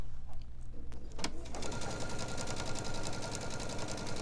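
Sewing machine set up for free motion quilting, starting slowly and then speeding up into a fast, steady rapid stitching rattle heard close up, with a faint voice in the background.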